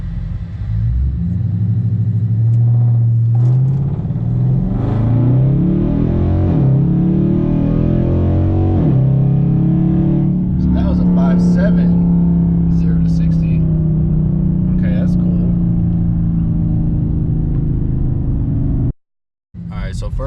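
A Dodge Charger held near 1,700 to 1,800 RPM on launch control, its engine a loud, steady low rumble with rising and falling revs, ending in a brief cutoff near the close.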